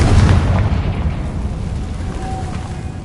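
A fiery Confringo spell blast in Hogwarts Legacy hits as one loud, deep boom that rolls away and fades into a lingering rumble over about three seconds.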